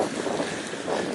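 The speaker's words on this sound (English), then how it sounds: "sorry about the wind" Wind gusting on a beach with exposed black peat and ancient tree trunks, a steady broadband rush buffeting the microphone at moderate loudness, with no speech.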